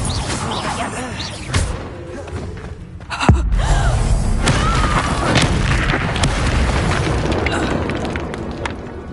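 A fire spell cast in a Harry Potter video game erupts as a heavy booming whoosh about a third of the way in, then roars on as a sustained fiery rush under game effects and earlier clatter.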